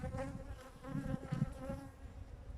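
Honeybees swarm over an open hive frame of hatching brood, their steady, dense buzzing close and continuous with no voices.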